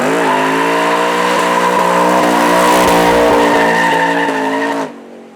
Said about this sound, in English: Hard on the brake.